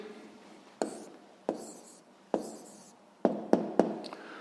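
A pen writing an answer onto paper during a sixth-grade maths exercise, heard as a series of quiet scratchy strokes and taps, with several spaced marks followed by a quicker cluster near the end, close and alone.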